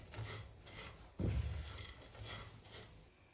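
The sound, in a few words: stirring bori (lentil dumplings) frying in a pan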